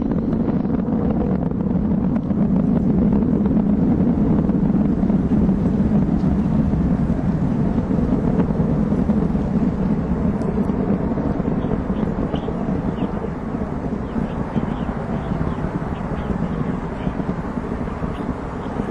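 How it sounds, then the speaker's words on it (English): Rocket launching the New Horizons spacecraft, heard well into flight as a sustained, distant broadband roar with wind buffeting the microphone throughout. "sending the New Horizons spacecraft on its way to the very edge of our solar system"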